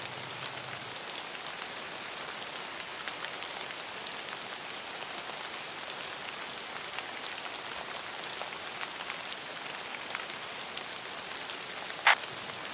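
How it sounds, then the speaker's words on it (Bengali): Rain on a rainy day in Bangladesh, a dense steady patter on surfaces that holds even and unbroken, with one brief sharper tap near the end and no voices. "বৃষ্টি স্নাত রিমঝিম শব্দ"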